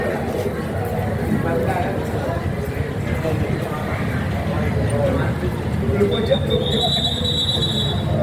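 A train arrives on railway tracks with a low rumble and wheel clatter beneath someone talking excitedly, and a thin high squeal of the wheels rises near the end.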